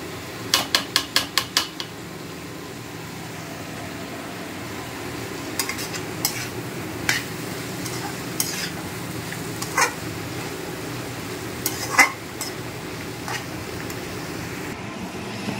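Chicken frying in a pan with coriander, cumin, chilli and turmeric, a soft sizzle underneath a quick burst of metal spoon taps at the start, then scattered scraping clinks as it is stirred.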